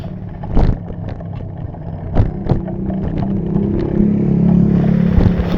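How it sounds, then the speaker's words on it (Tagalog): A motorcycle passes on a street, its engine rumble rising and growing louder as it nears, with a few sharp knocks early on. "Oops, nagulat ako sa motor."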